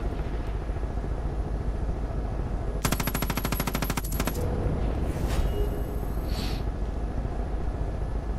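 Gunfire from a weapon in the video game Far Cry 5: a fast automatic burst lasting under two seconds rises over a steady game background, and a few fainter shots and effects follow.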